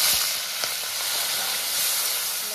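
Fish sizzling in hot oil in a kadai with black cumin and dried chillies, a loud, steady hiss of frying that runs continuously with faint scraping.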